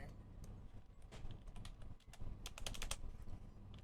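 Close, uneven bursts of typing on a computer keyboard, keys clicking in quick clusters with a few short gaps over a low steady background rumble.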